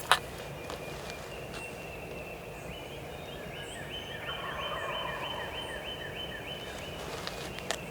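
Wild turkeys gobble at dawn, heard from a distance as a rolling run of gobbles in the middle of the clip over a soft outdoor hiss with a few faint rustles.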